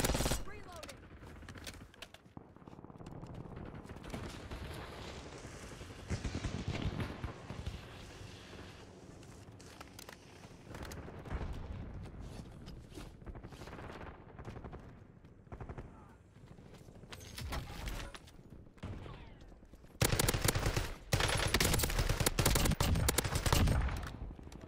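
Gunfire in Call of Duty against bots, with dense, sustained automatic-weapon bursts and booming shots that continue nearly throughout, growing louder near the end.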